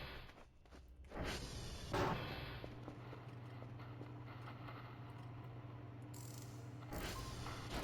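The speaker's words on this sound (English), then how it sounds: "We needed the wrench for that." A wrench ratchets while opening a computer in the video game VOTV, a close mechanical whirring and clicking with short louder bursts at the start and near the end.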